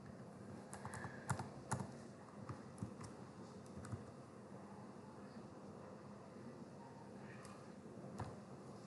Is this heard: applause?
no